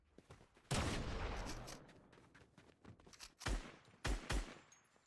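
Bursts of video-game gunfire in a fast-paced shooter, several loud clustered volleys with short gaps between them, sharp close cracks over a quieter background.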